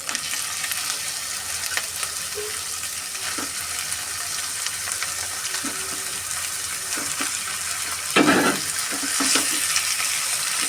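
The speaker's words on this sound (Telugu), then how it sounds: "వేగుతున్నాయండి. ఉల్లిపాయలు కూడా కొంచెం వేగించుకున్న తర్వాత" Onions fry in a pan for green chicken curry, a continuous bright hiss of oil with occasional scrapes and clinks of stirring, close and steady, with a louder burst of sizzle near the end.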